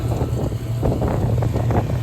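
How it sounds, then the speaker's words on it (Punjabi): Steady, strong wind roaring across the microphone with gusty buffeting throughout, and a low constant hum underneath. "ਹਵਾ ਚੱਲਦੀ ਆ ਪੂਰੀ ਫੁੱਲ"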